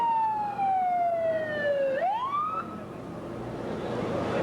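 A siren wails outdoors before a hotel demolition, a single descending tone that drops then sweeps sharply upward, clear and fairly close above crowd and street ambience.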